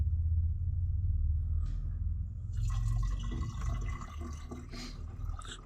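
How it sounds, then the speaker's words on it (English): Water poured into the radiator of a C10 truck, a low rumbling fill with trickling and dripping over roughly six seconds, close by and with no talk. "Again, she's adding water to the radiator."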